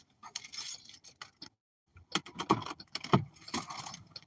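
Car keys jangle close up in short metallic bursts, with a brief pause and then several more rattling shakes, alone with no talk.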